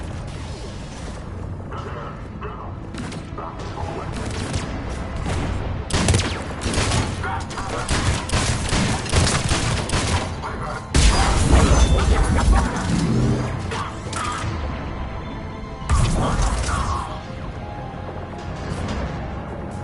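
Repeated heavy cannon booms and blasts fire in rapid bursts over a dense, continuous battle din in the video game Mass Effect 3, with some louder crashing impacts partway through.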